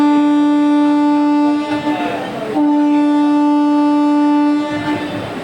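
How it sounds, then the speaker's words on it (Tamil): The Rameswaram to Madurai passenger train sounds its horn loudly and close at departure, a long steady blast that breaks off briefly and then resumes. "ராமேஸ்வரம்லேருந்து கரெக்டாக 5:45க்கு ஆன் டைமில் கிளம்பியாச்சு."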